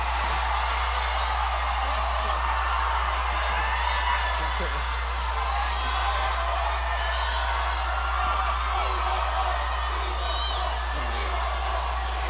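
Concert crowd from 2009 cheering and whooping in a steady, dense roar of shouts and yells, loud and unbroken for about twelve seconds.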